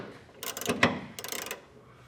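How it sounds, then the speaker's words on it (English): A 9/16 socket ratchet tightens a nut on a Firestone Ride-Rite air helper spring install, two close bursts of rapid clicking separated by a brief clunk, in an otherwise quiet space. "So I'm going to get my 9/16 socket here"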